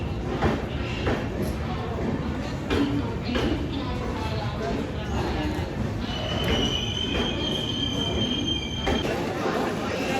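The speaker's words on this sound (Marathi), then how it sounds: "आता आम्ही पोचलो जयपूर स्टेशनला।" A train at Jaipur railway station: rumbling wheels and clanks run throughout, then a high metallic squeal rises near the end, with voices murmuring in the background.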